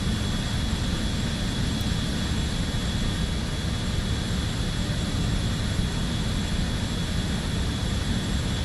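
A steady, loud jet airliner engine drone in Microsoft Flight Simulator during a flight from Billund to Vágar in the Faroe Islands, an unbroken roar with a faint high whine and no talking.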